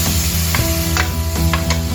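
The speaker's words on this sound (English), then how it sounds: "Fry the spices" Ginger, garlic and spices frying in a saucepan with onions, giving a steady close sizzle broken by a few sharp scraping stir strokes.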